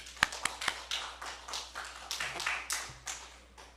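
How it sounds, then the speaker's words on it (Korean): A church congregation claps in praise during a Wednesday worship service, a run of fairly quiet, uneven hand claps that come in quick bursts and then thin out. "하나님께 영광의 박수 돌리겠습니다."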